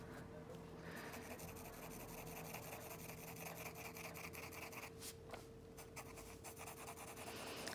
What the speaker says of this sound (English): Now you see what I'm doing here by kind of cross-hatching in this shadow, right?